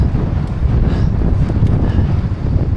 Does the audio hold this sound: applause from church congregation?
no